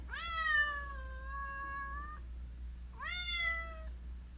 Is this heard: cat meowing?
yes